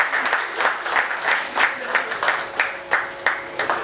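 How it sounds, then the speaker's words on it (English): Audience applause at the launch event for a bank clinic: a modest crowd claps in uneven rhythmic bursts, fairly close and steady for a few seconds. "I request you to please give a big applause to both of them"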